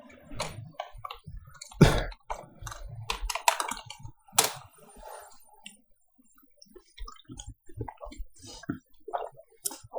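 Keys clatter on a computer keyboard as the word Halloween is typed, a close run of irregular clicks and taps with brief pauses and one louder knock, no speech.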